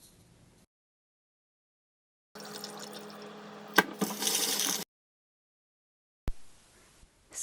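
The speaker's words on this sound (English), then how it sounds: "Then wash the beans under running water." Running tap water splashes over soybeans being washed, heard in short bursts separated by silence, with a louder rushing spurt in the middle and a sharp clunk later.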